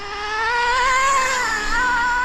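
A Traxxas Nitro Slash RC truck with a 3.3 nitro engine screams at a little over quarter throttle, a loud, sustained high-pitched buzzing whine that wavers slightly in pitch as it holds steady, close and alone.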